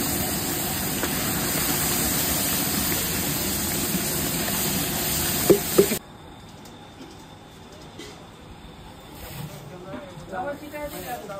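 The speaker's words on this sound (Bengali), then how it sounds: "একদম মাছের ডালে ছিটাই দিয়া দিচ্ছে" A hot oil tempering is poured into fish dal, giving a loud, steady sizzling hiss for several seconds with a couple of sharp pops, then cutting to a much quieter simmer with faint kitchen sounds.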